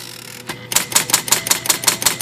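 An IBM Model D electric typewriter types at a fast, even rhythm, its sharp keystrokes clacking close and loud in a steady run with no talk.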